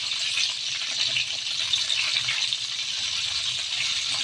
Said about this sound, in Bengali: দিয়ে পটলগুলো ভেজে নেব